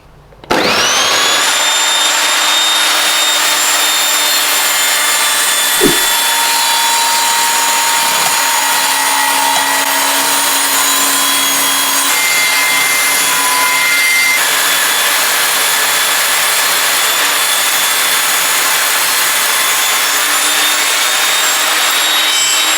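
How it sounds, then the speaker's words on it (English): A budget table saw spins up and rips a length of 63 by 38mm CLS timber, a loud sustained whining drone held steady throughout with a brief bump partway through the cut. "put the saw to the test with a piece of 63 by 38mm CLS"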